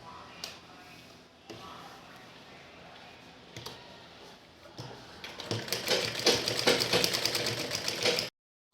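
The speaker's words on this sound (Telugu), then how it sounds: "ఇలా అన్ని సైడ్స్ స్టిచ్ చేసి మిడిల్లో స్టిచ్ చేస్తున్నాను" Sewing machine stitching along all sides and down the middle of a fabric cover, a steady mechanical clatter that builds louder and denser toward the end before stopping abruptly.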